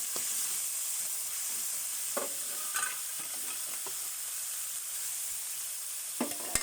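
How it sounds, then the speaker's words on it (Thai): Pork being stir-fried in a pan for a glass noodle dish, a steady hiss of frying with occasional spatula scrapes and clicks against the pan, close and continuous with no speech. "ใส่หมูลงไปผัด"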